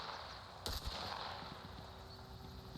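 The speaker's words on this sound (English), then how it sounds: "You can hear gunshots." Two quick gunshots in a shooter video game, fired against sandbags, crack close together near the start, then fade into a quiet, humming background with no voices.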